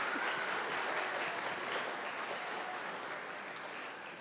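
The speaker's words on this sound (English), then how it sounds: "I want us to give a round of applause to our wonderful teachers who have worked so hard on this play" An audience at a middle school production of the musical Matilda applauds the teachers, a steady wash of many hands clapping that fades slightly toward the end, heard from within the crowd.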